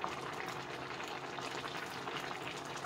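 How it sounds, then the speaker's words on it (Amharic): Ethiopian corn kinche, cracked corn, boiling in a pot, giving a steady dense bubbling and simmering hiss that stays even and moderately loud throughout with no talk. "እየበሰለ ነው፣ በስሏል።"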